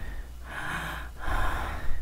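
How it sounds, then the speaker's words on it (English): A video game character breathes heavily and raggedly, two long rasping breaths close up, each a loud drawn-out gasp with a short pause between. "D3824's heavy ragged breathing becomes audible"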